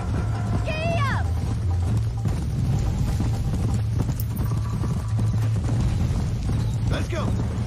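Horse hooves clip-clop at a steady trot in Red Dead Redemption, a continuous rhythmic beat beneath game sounds, with a brief rising whinny-like tone near the start and again near the end.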